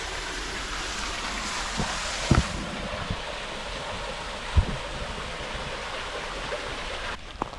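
Canyon Creek Falls in Waterfall Glen, Lemont, Illinois, pours down a steep canyon ledge with a steady, dense rushing roar. A few faint knocks and scuffs sound close by.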